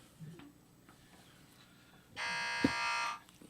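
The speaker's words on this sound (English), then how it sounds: "get your buzzer in your hand" A quiz buzzer on a talk radio call-in show sounds once, a flat electronic tone lasting about a second, standing out against a quiet studio background.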